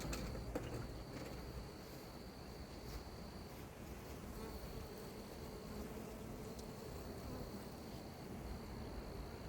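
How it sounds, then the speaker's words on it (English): Honey bees swarming a hive during a spring split, a continuous soft hum of many wings, low and steady, with faint outdoor ambience and no talking. "Bunch of bees."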